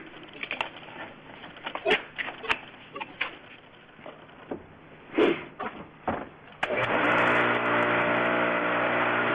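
Polishing buffer spinning a cotton sisal wheel at 3,500 RPM, first intermittent handling clatter and knocks, then the motor starts into a loud, steady, even whir that continues to the end.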